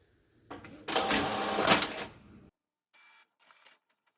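Sublimation printer printing ornament designs: a close mechanical whirring and rattling run of about two seconds, then silence broken by two brief faint mechanical buzzes.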